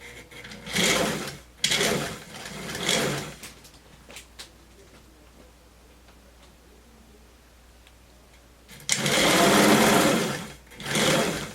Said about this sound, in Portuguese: vamos costurar aqui ombro, ombro e fazer acabamento